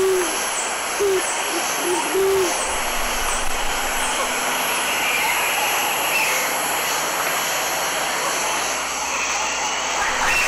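Scaled Pigeon (Patagioenas speciosa) at San Cipriano gives a few low, hooting coos in the first seconds, set against a dense, constant wash of insects and forest ambience.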